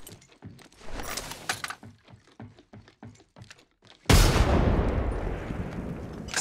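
A frag grenade in Apex Legends goes off with a sudden loud, broad blast that rolls into a long, fading rumble, after a run of sharp clicks and thuds from game gear.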